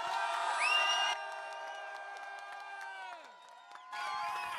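An outdoor concert crowd at the Château de Champs-sur-Marne in France whoops and cheers with sustained shouted tones, breaking off abruptly and then surging back near the end, with only faint clapping.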